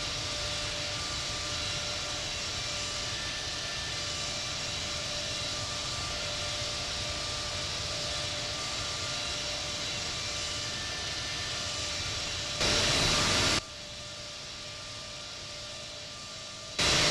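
Airbus A380 jet engines of a Singapore Airlines flight on takeoff, a steady broadband roar holding for most of the stretch, with a brief louder hissing burst near the end.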